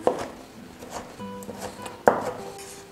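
A kitchen knife dices a tomato on a cutting board: a few sharp, close chops spaced out over a few seconds, with faint clinks between them.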